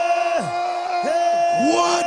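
A large congregation at a live church prayer service shouts and whoops in rising, sweeping cries over a loud, sustained sustained crowd roar, with amplified music tones running underneath.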